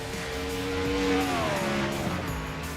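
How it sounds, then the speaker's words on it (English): NASCAR Next-Gen race cars in the iRacing simulator at Daytona roar past in a loud, continuous engine drone whose pitch slides and shifts as the cars accelerate, with no voices over it. "Just hear how awesome these cars sound."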